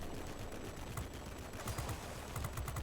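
Aircraft cannons on an F6U fighter in World of Warplanes fire in rapid bursts, a dense clattering rattle of shots that pulses in short volleys over steady engine drone.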